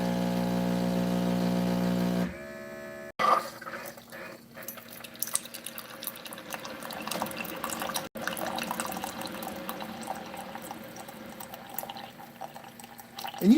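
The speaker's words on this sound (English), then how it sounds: "Pump's a little on the noisy side, but that's normal for some of these." A used coffee maker found at a garage sale in Greene, New York, its somewhat noisy pump buzzing as water streams into a mug, a steady droning hum with intermittent splashing and dripping, close up.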